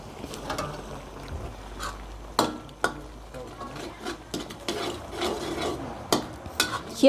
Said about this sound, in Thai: เคี่ยวให้เหนียวสักหน่อยนึง ให้อร่อยอร่อยค่ะ